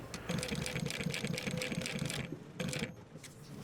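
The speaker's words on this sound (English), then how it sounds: "You slip it under, stitch across, and just kind of run back up to the top here." A sewing machine stitches across the handle of a sturdy everyday-carry bag, its needle chattering in rapid bursts with a brief pause before running again, close and fairly clear.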